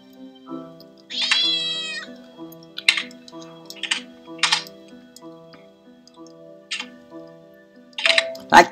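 Several meows from a cat in The Children of Silentown, a game, come in short separate bursts over a steady low musical drone, fairly close and clear with no talking.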